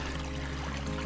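A little stream along the Camino, its water running in a steady trickling rush, close and continuous over a very short stretch.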